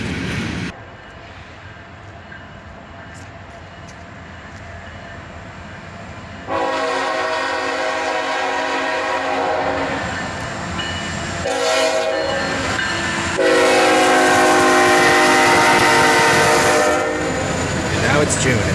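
A freight train led by a four-unit lash-up, a YN2 liter, an SD70 MAC and two Jeeps, rolls past close by with a rumbling run, breaking into loud, repeated horn blasts, a short burst midway and a long sustained blast near the end.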